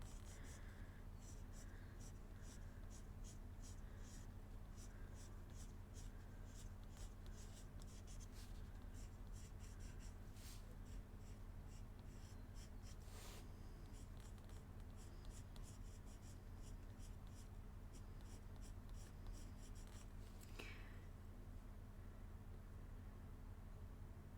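A colored pencil burnishing paper to flatten its tooth, a soft continuous scratchy rubbing close by with occasional sharper strokes, faint under steady background hiss.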